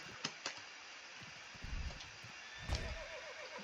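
Horse whinnying in the Roblox game SpellSword, one faint neigh with a falling warble near the end, after scattered soft thuds and clicks in a quiet scene.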